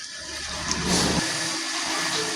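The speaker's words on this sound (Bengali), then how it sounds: "যে ডালটা আমি সেদ্ধ করে রেখেছিলাম সেই সব ডাল এখন আমি এখানে দিয়ে দিচ্ছি" Boiled lentils are poured into a pan of fried spice mix as eggs and lentils are cooked. There is a loud wet sizzle and splash that drops off sharply after about a second, followed by a steadier hiss.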